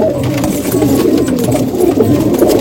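Punjabi Malwai pigeons coo softly and continuously in a loft, their low, overlapping calls filling the space up close.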